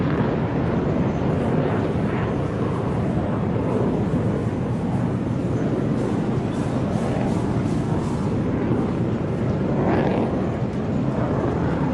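Aircraft engine thrust at the Dubai Air Show, a loud, steady roaring rumble that holds broad and constant for the whole stretch, heavy with wind-like noise.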